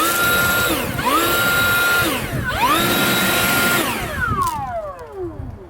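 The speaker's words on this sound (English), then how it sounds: "I'm going to get rid of these leaves that are in this windshield cowl area with this electric blower" Electric leaf blower clearing leaves from a pickup's windshield cowl, a steady whine that rises and falls in pitch through several surges before spinning down at the end.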